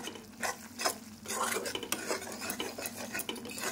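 A metal spoon scrapes and knocks around a pan while yogurt curry is stirred over a medium flame, with a faint sizzle underneath and irregular clinks, close and moderately loud.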